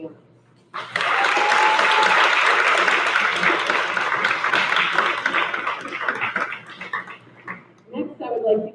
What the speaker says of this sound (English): give one more round of applause for all of the generous donations from grieving families